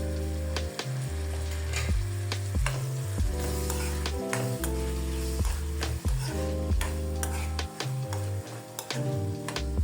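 Prawns sauté in a pan with onion, salt and turmeric, giving a steady loud sizzle with frequent scraping stirs and clicks of a spatula, with no voices.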